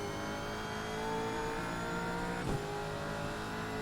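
A Holden A9X race car engine drones steadily at Bathurst in Assetto Corsa, a constant mid-pitched roar with a brief gear-shift dip and rise in revs partway through.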